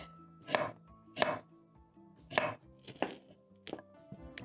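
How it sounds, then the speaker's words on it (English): A knife cuts sharply through firm potato onto a board, six distinct close chops at an uneven, unhurried pace. "using a sharp knife, you're going to slice the potatoes into the same size"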